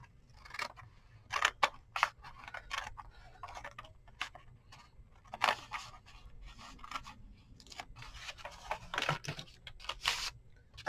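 Paper for a journal page is trimmed in quiet, sparse snips and clicks, scattered irregularly across the stretch with soft rustling between them.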